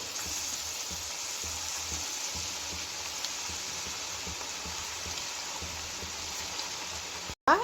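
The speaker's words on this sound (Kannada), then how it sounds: "ಈಗ ಇಲ್ಲಿ ನಾನು ಮಾಡಿ ಇಟ್ಕೊಂಡಿದ್ದೀನಲ್ಲ ಅದನ್ನು ಒಂದೊಂದೇ ಎಣ್ಣೆಗೆ ಹಾಕ್ಕೊಳ್ತಾ ಇದ್ದೀನಿ" Pieces of rice flour snack dough fry in hot oil one by one, producing a steady dense sizzle and crackle heard close up and alone, with a brief gap near the end.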